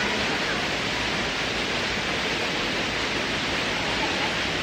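The Khmori waterfall roars as a loud, constant broadband rush of falling water, unbroken and close, with no other sounds standing out.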